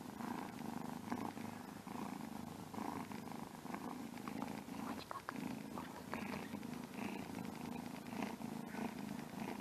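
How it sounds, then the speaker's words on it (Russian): A male cat purrs contentedly on freshly laundered bedding, a soft, continuous rhythmic rumble close to the ear with no voices over it. "Уже мурлыкает мальчик."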